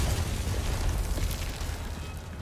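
Thrown bomb exploding in Resident Evil 4, a loud, dense blast with a rumbling low end that stays heavy for a couple of seconds before easing slightly.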